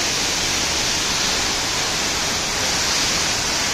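Baba Waterfalls at Kumbwade, Maharashtra, crashing down with great force: a loud, dense, unbroken roar of falling water close by, with no voices over it.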